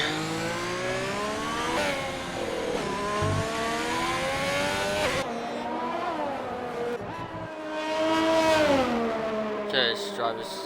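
Formula One cars on an out lap in a racing video game, at Australia: engines rise and fall in pitch through gear changes, several cars overlapping at close range, with a commentator talking over them.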